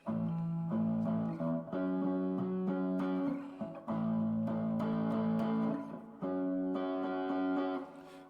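Electric guitar chords drenched in a wobbling echo and chorus-like shimmer, playing steadily with brief pauses between phrases, loud and close.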